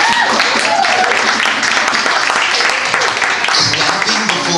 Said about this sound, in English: Clapping before I even speak